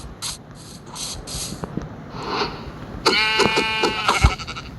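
Sheep in the Minecraft video game let out several short, loud bleats, with a burst of rapid, tremulous bleating near the end and soft clicks between calls.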